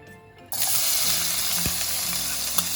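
Finely chopped coconut pieces hit hot coconut oil for Malabar kalathappam and erupt into a loud, dense sizzle that holds steady, with a single spoon knock near the end.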